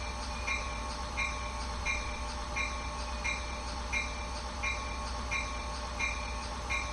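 A locomotive in a train simulator game runs steadily with a low engine rumble and a regular, evenly spaced ticking rhythm, with no talk over it.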